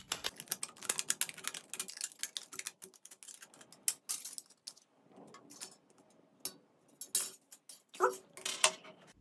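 Scissors snipping through craft material while building a homemade flashlight, with many quick, close clicks and snips in irregular bursts and short quiet gaps between.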